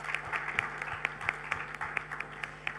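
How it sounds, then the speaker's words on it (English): A crowd claps steadily, an even patter of many hands applauding in a large room with no talking, at an aviation event at Cluj Airport. "a big applause for you and for Cluj Airport"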